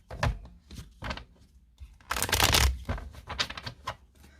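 A deck of oracle cards being shuffled and cut by hand, close and crisp, in several quick riffling bursts with short pauses between them and a longer, denser flurry in the middle.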